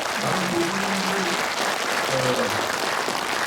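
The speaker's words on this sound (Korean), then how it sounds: "박수를 보내주시기 바랍니다." Sustained audience applause at a Korean book review gathering, steady and full for the whole stretch, with a few voices faintly audible underneath.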